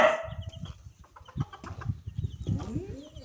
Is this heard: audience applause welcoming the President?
no